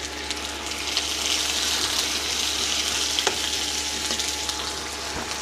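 Garlic, green chilies, cumin and ginger fry in a pan with a loud, continuous close sizzle, and occasional faint clicks of stirring sound over it.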